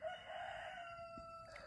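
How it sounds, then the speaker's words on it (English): A rooster crows in a drawn-out, wavering call, fairly close and steady, with a faint low background rumble. "weird rooster"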